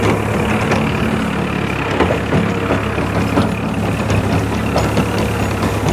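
A tractor-mounted rotavator with a bund-trimming blade tills a dry, dusty field, giving a loud, continuous engine drone mixed with steady churning and rattling throughout, with no voices.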